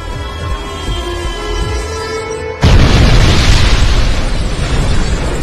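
After a few seconds of tonal ambient sound, a sudden loud blast erupts into a sustained roaring rumble of an explosion that fills the rest of the clip.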